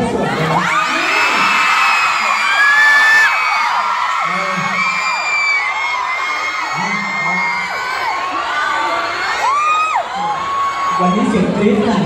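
A crowd of fans screams and shrieks loudly in waves of high-pitched cries, with whoops and shouts rising and falling throughout.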